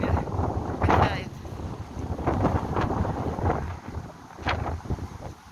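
Strong autumn wind gusting through swaying trees in an empty city square, loud buffeting rumble on the microphone with recurring gusts, while someone speaks over it.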